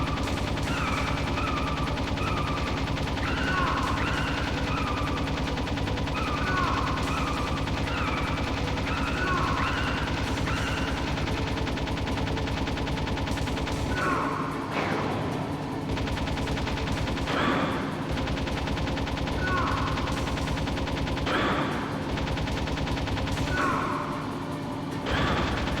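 Machine gun fire in the video game Metal Gear Solid, a steady, loud stream of rapid shots over a continuous game soundscape with occasional sharper impacts.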